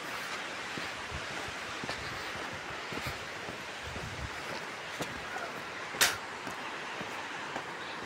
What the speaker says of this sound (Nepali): यहाँ त खोला छ, म खोलाको नजिकै छु